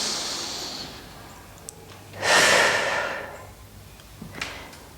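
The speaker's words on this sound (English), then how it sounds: "Inhale. Exhale. Inhale. Exhale." A person breathes deeply during a trauma-releasing exercise, with one long, clear, close breath midway between quieter airy sounds and a few faint clicks.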